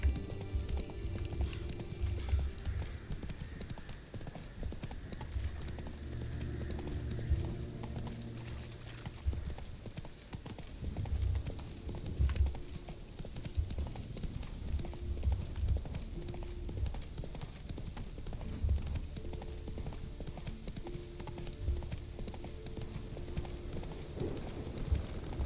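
Horse hooves clip-clopping at a steady rhythmic gallop in The Witcher 3: Wild Hunt on the way to Skellige, close and continuous over low ambient game music, with occasional brief voice.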